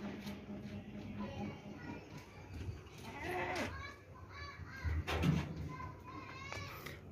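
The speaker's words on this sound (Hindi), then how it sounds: "दो दांत बकरा है, कुर्बानी वाला बकरा है" A two-toothed sacrificial goat bleating a couple of times on a farm, the calls rising over nearby people talking and children's voices in the background.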